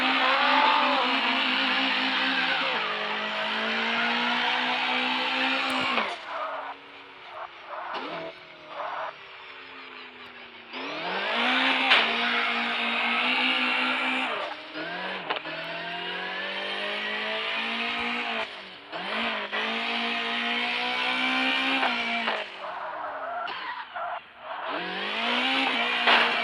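Engine roar of a car racing in a mobile phone racing game, rising and falling through gear shifts and revs over about 26 seconds, loud and continuous with brief drops between runs.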